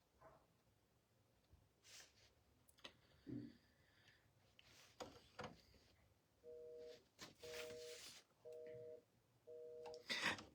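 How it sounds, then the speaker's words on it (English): Four evenly spaced bursts of a telephone busy signal sound near the end, a repeating on-off beep, after scattered thumps, clicks and rustling at low overall volume. "That is the sound of a busy signal for a phone."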